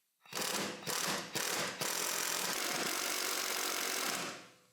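A ratchet working a Torx bit on a front sway bar end link, with a few quick ratcheting bursts and then a sustained harsh mechanical whirring, loud and close.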